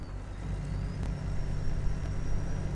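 Truck towing a double trailer pulling under moderate throttle, its engine a steady low drone that gradually builds in loudness, heard from inside the cab with no talking.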